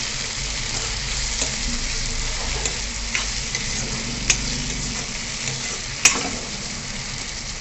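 Two medium tomatoes tossed into shallow-fried onions for chicken gravy, giving a continuous close sizzle with a few sharp clicks of a spoon against the pan, no voices.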